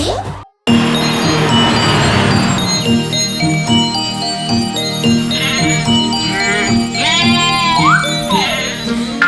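Bleating goat calls with a bell tinkling over a bouncy backing track in an animated Hindi nursery rhyme, wavering bleats rising and falling near the end amid steady music.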